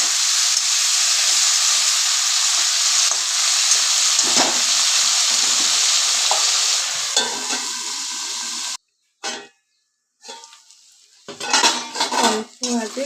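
Flat beans fry in a pan under a lid, a steady close hiss that gives way to metallic clatter as the lid and utensils knock against the pan, then brief louder scraping.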